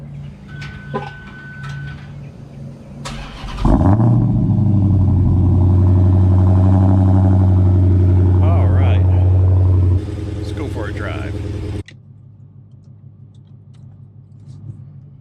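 A Dodge Hellcat coming to life: quiet background, then a sharp starter crank and a loud bark, settling into a deep, steady, throaty idle that drops quieter near the end; a voice is heard at points.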